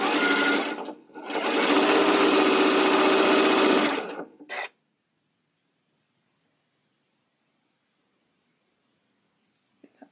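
A sewing machine stitches pieced quilt block fabric in two loud, steady runs, a short one then a longer burst of about three seconds, followed by a brief final stitch and then near silence.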